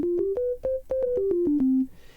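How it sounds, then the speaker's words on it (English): Synthesizer oscillator playing a pure sine tone in a short melodic run of about a dozen clean notes, each with a soft click at its onset, ending on a longer held low note, alone without talk. "So this waveform is what is called a sine wave."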